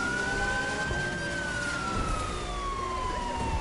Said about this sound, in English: The unmarked Enzo Ferrari is about to have a siren to be turned on and give it a hot pursuit escort.